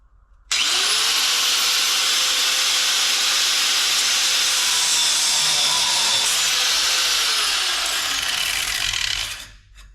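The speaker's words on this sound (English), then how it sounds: "I'm going to lop off the ear that goes up against the back of this power steering pump off of this back plate" A metal ear is cut off a power steering pump back plate with a power cutting tool, giving one loud, sustained high-pitched grinding, hissing cut of about nine seconds, close up and alone, ending abruptly.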